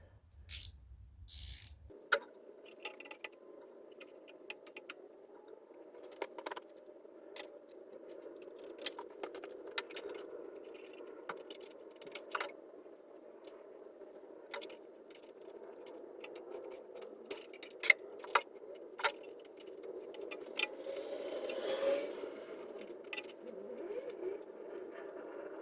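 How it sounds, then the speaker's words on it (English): An engine stud is backed out of a classic Fiat 500 block by turning two 13mm nuts locked together, giving faint, intermittent ratcheting clicks and small metallic ticks over a low steady hum in a quiet workshop. "the easiest way of drawing a stud out of a block like that, even in a sort of confined space, is just to wind on two nuts"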